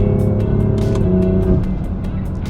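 A BMW M4 Competition F82 fitted with aftermarket downpipes and intakes pulls hard under acceleration, its loud, dense exhaust drone steady and close, with the engine note sagging slightly as it shifts midway.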